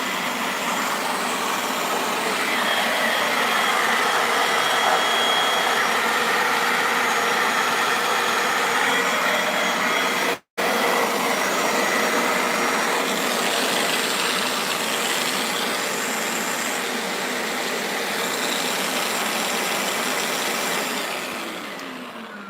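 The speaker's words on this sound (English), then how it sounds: "I typically like to leave it on for about 30 seconds to a minute afterwards, and that'll just make sure to vacuum all of that standing water" A spot carpet cleaner runs with its trigger held, sucking rinse water back through the hose in a steady, loud, close motor roar that cuts out for an instant midway, then resumes and eases off slightly at the end, with no talking.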